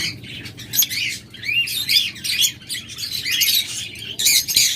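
A dense, continuous chorus of chirps and squeaky calls comes from caged breeding pet birds at a sale: lovebirds, budgerigars and finches. Many overlapping calls sound close and lively throughout, with no talking.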